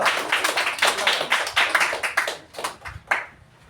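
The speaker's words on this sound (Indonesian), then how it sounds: "Kita berikan tepuk tangan untuk kelompok 2." A classroom audience claps for a student group after its presentation, with dense, uneven handclaps in rapid bursts that thin out and fade toward the end.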